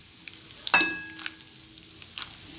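Almonds, cashews and raisins roasting in a pan give a soft, steady sizzle, with a sharp metallic clink from the spoon near the start and light scraping after it. No one speaks.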